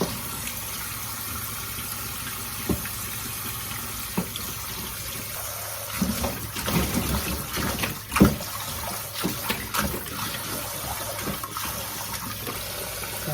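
Tap water runs steadily into a sink while fresh ginseng roots are washed, with faint splashes and clunks as the roots are handled. No voices.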